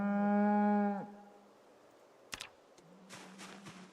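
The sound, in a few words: cow mooing in video game Project Zomboid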